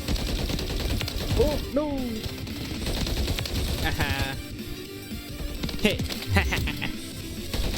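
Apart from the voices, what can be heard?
gunfire from a 20-round-magazine gun in Call of Duty video game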